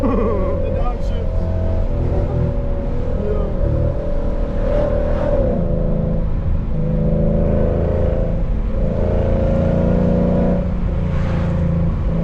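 A tuned Lexus RC F V8 of over 500 horsepower revs sharply on a downshift along country backroads, heard from inside the car as a loud, steady engine roar with rising blips, while occupants talk over it.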